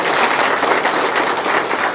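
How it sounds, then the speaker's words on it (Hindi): Loud audience applause from a crowd, dense steady clapping filling the whole stretch without pause. "जोरदार तालियां।"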